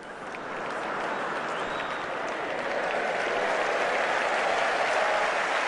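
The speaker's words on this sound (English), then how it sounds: "Slightly ironic applause for the scoreboard being correct now." A tennis crowd at the 2010 ATP World Tour Finals semi-final applauds in a large indoor arena, producing a continuous, even wash of clapping that swells slightly and holds steady without any voices.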